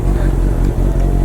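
A Honda CBR650 motorcycle idles after starting while warming up, its engine a loud, steady, rumbling drone close by with light clatter.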